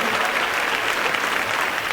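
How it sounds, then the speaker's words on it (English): A school farewell ceremony audience applauds in a loud, dense, continuous burst of many clapping hands throughout. "Let's give Mrs. Pressman a round of applause."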